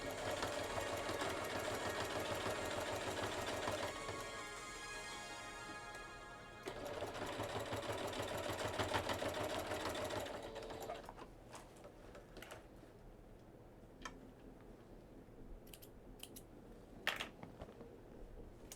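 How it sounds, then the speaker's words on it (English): A sewing machine stitches bias tape in a continuous close buzzing run, briefly slowing and changing pitch, then stops. Light handling clicks and rustles follow. "So right now I'm just sewing all the bias tape in"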